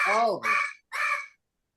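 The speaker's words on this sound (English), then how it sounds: "You're very squawky." A pet bird squawks three times in quick succession, loud and close, the harsh crow-like calls each under half a second with short gaps, then silence.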